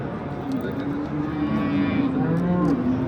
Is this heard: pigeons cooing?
no